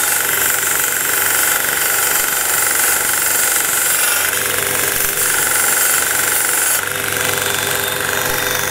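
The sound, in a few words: belt sander sharpening the end of a wire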